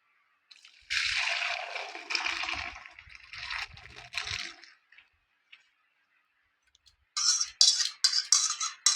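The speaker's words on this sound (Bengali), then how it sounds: "এবারে আমি এই ভাঁড়ের মধ্যে ঢেলে দেবো।" Thick sweet yogurt for Bengali mishti doi is poured into a clay pot, giving soft wet splatters and glugs in two bursts separated by a few seconds of quiet.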